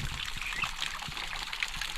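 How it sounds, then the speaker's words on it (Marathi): A thin stream of water from a dam trickles and pours into a bottle, a soft continuous splashing and gurgle, faint and close, with no voices. "त्या धारीने पूर्ण बाटली भरायची"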